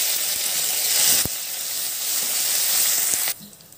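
Three dried red chillies and two sprigs of curry leaves sizzle in hot oil for a bottle gourd dal tempering: a steady, bright, close hiss that cuts off sharply near the end, leaving quiet.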